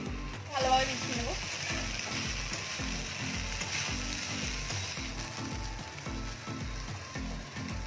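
Tomato sauce being stirred into pasta in a hot pan, a steady sizzle and frying hiss with scraping stir sounds throughout, moderately loud and continuous.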